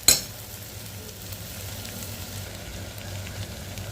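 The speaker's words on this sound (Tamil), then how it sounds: "சேர்த்துட்டு இந்த பீட்ரூட்டை ஒரு 10 நிமிஷத்துக்கு இந்த எண்ணெயிலேயே நல்லா" Beetroot sautéing in oil for beetroot rice, a soft steady sizzle with faint stirring scrapes, a brief louder crackle at the start, no talking.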